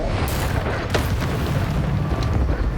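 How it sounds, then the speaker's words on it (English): An Incendio fire spell cast in Hogwarts Legacy, a loud roaring whoosh of flame with a booming rumble that stays dense and continuous throughout, no talk. "Incendio."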